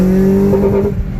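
A tuned car in second gear on a freeway pulls hard, its engine droning loud and steady with a rising tonal whine from close inside the cabin.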